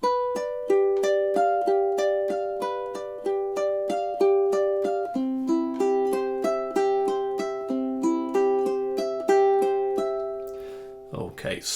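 Ukulele picking the arpeggiated broken chords of Bach's Prelude in C, measures 3 and 4, each pattern plucked in an even, steady rhythm, close and clear with no voice, ending in a brief handling rustle.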